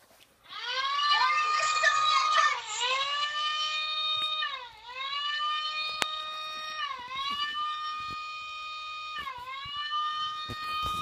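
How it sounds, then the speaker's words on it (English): A loud electronic siren tone wails steadily, dipping and rising in repeated swoops, with brief clicks underneath. "custom siren tone"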